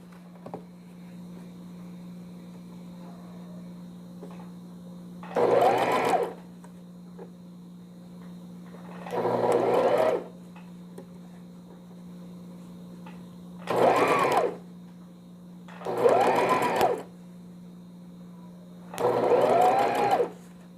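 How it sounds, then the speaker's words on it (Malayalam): Domestic sewing machine stitching the shoulder seam of a newborn size-0 baby vest, running in five short loud bursts with pauses between, over a steady low electrical hum and no talking. "അതേപോലെ ഷോൾഡർ സ്റ്റിച്ച് ചെയ്തത് ബാക്ക് സൈഡിലേക്ക് ആക്കണം."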